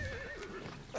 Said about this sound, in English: Oh, it's a call for a horse.